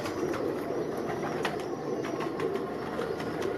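Teddy pigeons cooing in a loft, soft repeated low coos over a steady background hiss, faint and continuous with no talk.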